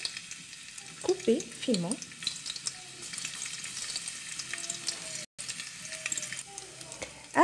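Garlic sizzling in about three tablespoons of olive oil in a pot for Moroccan rfissa, a steady frying hiss with a few stirring scrapes, while someone speaks briefly over it.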